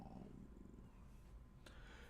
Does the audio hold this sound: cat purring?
yes